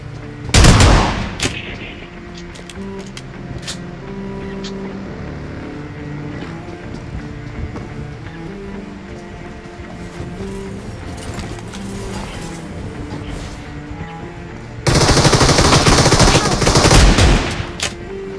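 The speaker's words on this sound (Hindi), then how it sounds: "इधर एक ने रश किया, उसको शॉट गन के साथ नॉक किया।" Shotgun blasts in the video game PUBG Mobile, loud close bursts near the start and a sustained heavy barrage near the end, with scattered quieter shots and engine-like background between.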